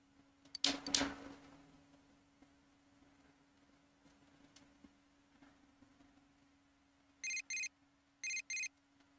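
Two short bursts of a bright electronic phone ring in Persona 4 Golden, each a pair of rapid trilling pulses, heard alone near the end after a brief sharp noise and quiet ambience.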